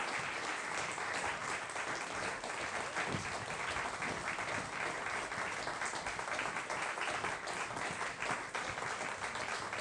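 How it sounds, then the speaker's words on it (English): Audience applauds as performers come up onto a stage, a dense, sustained wash of many hands clapping at steady volume for the whole stretch, fairly distant and without a break. "let's give them a round of applause as they come up"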